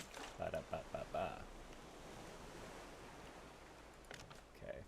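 Ocean waves wash steadily in the video game Raft, a soft continuous surf hiss that runs under the whole stretch with little change, while a voice speaks briefly near the start and again near the end.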